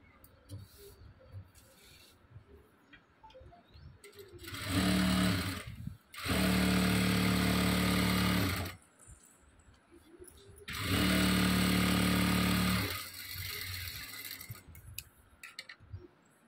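Electric sewing machine stitching a blouse sleeve, running in two long loud bursts of fast, even whirring with quieter pauses between them, someone talking softly in the gaps.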